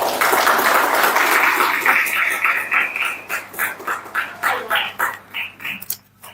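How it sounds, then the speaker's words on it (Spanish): A conference audience at a university gives a speaker strong applause: a dense burst of clapping that thins into scattered, uneven claps and fades toward the end. "Por favor, un fuerte aplauso."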